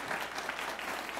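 A church congregation applauding together, steady dense clapping throughout with no pauses.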